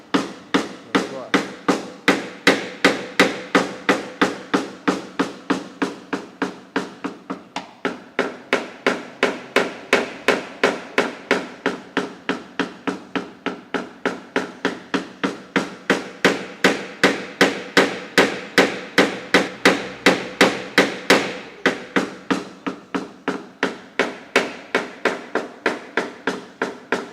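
Small hammer tapping steadily around a dent in a car panel during paintless dent repair, a rapid, even stream of close, sharp metallic knocks that continues throughout with only brief pauses.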